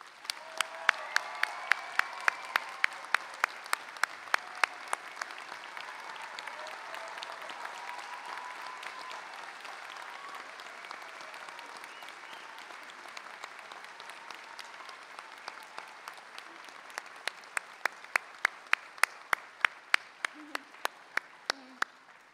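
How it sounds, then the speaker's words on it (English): An audience at a Dutchess Community College commencement ceremony applauds in a long, steady roar of clapping, with a few louder individual claps standing out near the microphone, especially toward the end. "please join me in giving Dr. Washington a Dutchess Community College round of applause"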